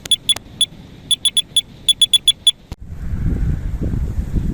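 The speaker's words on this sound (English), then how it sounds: "A middle rod is beeping away at the moment." Electronic bite alarm on a pike fishing rod, deadbaiting on a UK river, gives a run of short, sharp, high-pitched beeps in an irregular rhythm, then falls quiet as a rumbling wind-like background comes in.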